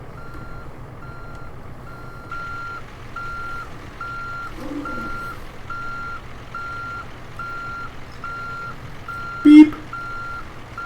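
Steady, evenly spaced reversing beeps from a truck in American Truck Simulator repeat throughout over a low engine hum, with one short sharp clunk near the end.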